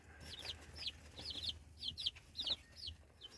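Bantam chickens clucking in a farmyard, a series of short, bright clucks repeating every half second or so, moderately close over a low background hum, with no talk.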